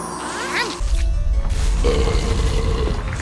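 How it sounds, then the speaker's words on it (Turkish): A cartoon character named Angela in a video game lets out a loud, low, rumbling burp that starts suddenly and rolls on for a couple of seconds, with no talking over it. "Angela çok fena geğirdi"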